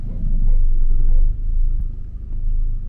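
A manual car's engine rumbles low and steady while the clutch is eased out slowly during a driving lesson, with a slight dip in level partway through; no one speaks over it.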